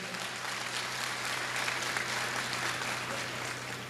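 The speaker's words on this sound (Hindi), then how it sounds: "जो अपने माता पिता से प्यार करता है वो ताली बजाए।" A crowd at an annual fair poetry gathering in Sagar, Madhya Pradesh keeps up a continuous wash of clapping, even in level, many hands together without pause, ending with a brief louder thump.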